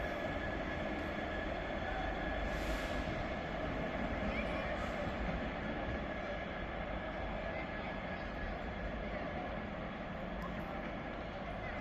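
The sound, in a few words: freight train 66504 passing at Carlisle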